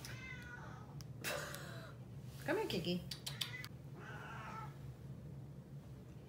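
A cat meows a few times, nearby, amid a person speaking softly to it against a low steady background hum.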